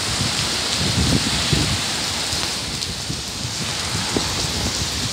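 Wind-driven rain during a storm with a large funnel cloud over Winter Springs, Florida, pours in a loud steady wash, with gusty low rumbles rising and fading beneath it and no voices.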